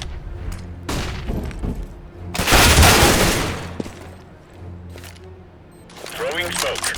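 CS:GO match audio with a loud burst of gunfire and a bright flashbang-style pop in the middle, scattered shots before, and a voice calling out near the end.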